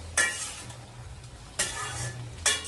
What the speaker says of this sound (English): Again mix well and give it a good stir.